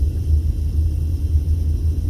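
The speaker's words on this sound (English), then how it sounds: "traffic's pretty light down here right now for a Saturday night." Light street traffic on a Saturday night in downtown Las Vegas near Fremont Street, heard as a steady low engine rumble from passing cars, moderately loud and continuous with no talking.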